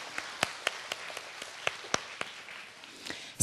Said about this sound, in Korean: 이럴 때 박수 한번 이때 치셔야 됩니다.